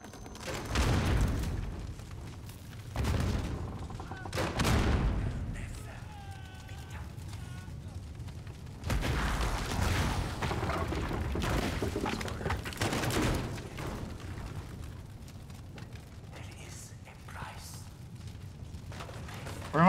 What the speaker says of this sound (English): I forgot I got a grenade launcher